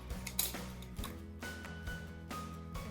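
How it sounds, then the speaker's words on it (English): Scissors snipping around a raindrop shape cut from shrink plastic, giving a few faint, sharp clicks spaced irregularly over a soft background. "I'm going to take my scissors and I'm going to"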